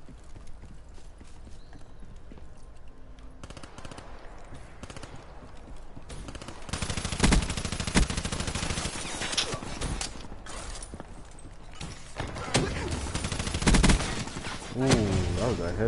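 Gunfire in an online Call of Duty 3 match, dense rattling bursts and shots that grow louder and busier partway through, mixed with rumbling game effects and no talk.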